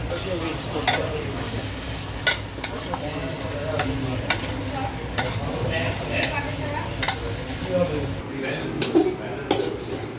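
Chicken pieces frying with ground spices in a pot, a steady close sizzle with stirring scrapes and clinks of a utensil against the pot throughout, with a voice talking over it.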